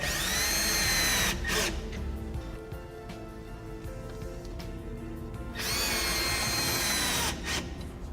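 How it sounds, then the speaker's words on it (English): A power drill drives screws into the top of a GIB plasterboard panel, heard as two loud, close whirring bursts with quieter handling noise between them. "Then I'm just going to insert a couple of screws at the top."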